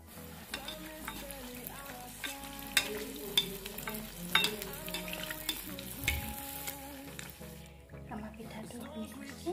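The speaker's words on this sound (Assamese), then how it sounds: "এনেকৈ মই গোটেইকেইটা ভাজি লওঁ" Assamese tel pitha rice cakes fry in oil with a loud, bubbling sizzle, punctuated by stirring scrapes and clinks. A voice can be heard faintly underneath, and the frying thins out near the end.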